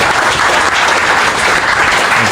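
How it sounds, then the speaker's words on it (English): Sustained applause from a large audience of about 1,700 people at a live podcast show in London, a dense, steady roar of clapping filling the whole stretch without a break. "Round of applause for embarrassing."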